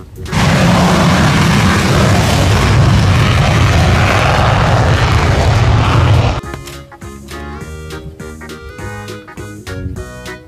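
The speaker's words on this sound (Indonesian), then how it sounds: "Pesawat jet tempur." A fighter jet roars loudly with a broad, powerful rush that lasts about six seconds before fading into upbeat background music.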